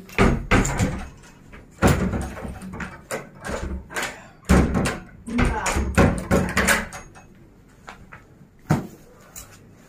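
A door is opened with knocks and thumps at a house, recurring as loud bangs amid lively talk from several people throughout.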